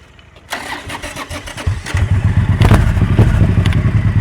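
A motorcycle engine cranks and fires up, then settles into a loud, steady, throbbing idle close by.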